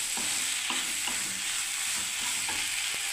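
Vegetables frying in a pan, a loud steady sizzle that fills the whole stretch, with faint regular stirring taps roughly every half second.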